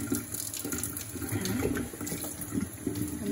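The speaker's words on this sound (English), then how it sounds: "So I'm gonna run my water." Tap water runs steadily into a sink to rinse a cyanotype print, a close continuous splashing and gurgling with no talk.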